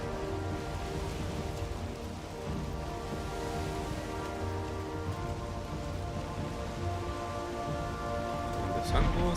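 Steady rain in the video game Valheim, a dense, even patter over a low rumble that holds through the whole stretch with no talk, swelling slightly near the end.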